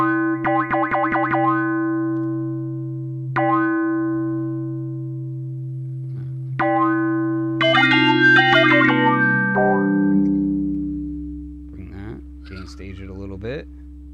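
A Leviasynth synthesizer plays weird, sharp tones shaped by analog filtering: plucky repeated notes, then sustained buzzing pitches that bend, slide and wobble down into a low drone, heard alone and up close.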